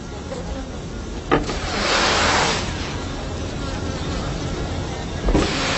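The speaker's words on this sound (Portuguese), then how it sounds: "Dentro da colmeia, a colônia inteira começa a criar uma onda de som." A whole bee colony buzzes inside its hive, a steady dense droning hum that swells briefly in the middle and carries on throughout with no voices.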